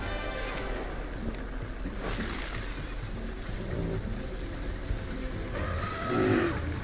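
Water splashes and churns in a video game, with a boat-like wash and wave noise rolling steadily and a louder surge near the end.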